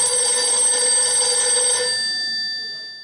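A telephone rings from a playback recording during a staged musical show, its bright electronic ring repeating steadily for about two seconds before trailing off, with no talking.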